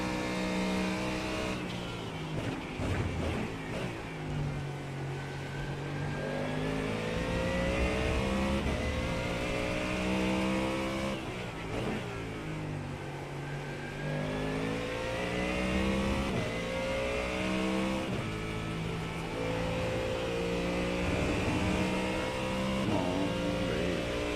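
Short course truck engines racing in the iRacing video game, a loud continuous roar of revving and accelerating motors with rising and falling pitch through gear changes, steady and close throughout with no talk.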